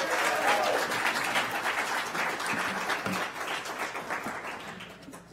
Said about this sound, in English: How about a round of applause for all four candidates?